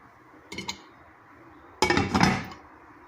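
A metal lid placed over a frying pan (kawali) while cooking homemade chicken inasal: a brief light clink, then a louder clattering rattle as the lid settles onto the pan, close and clear with no talk.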